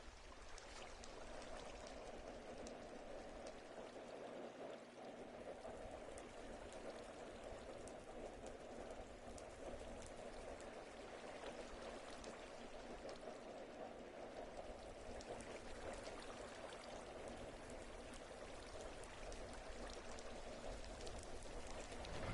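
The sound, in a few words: falling water from floating water source blocks, Minecraft video game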